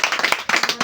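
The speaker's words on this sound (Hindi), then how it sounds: "चलो कम से कम ताली बजा। ताली बजा।" Students in a classroom clap in a brief, brisk burst of overlapping handclaps, close and fairly loud, with a short gap before the clapping resumes.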